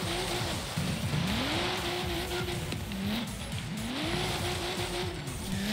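Nissan Skyline GT-R drifting in Forza Horizon 3, engine revving with repeated rising and falling tire squeals as the car slides through corners, loud and continuous with no talk.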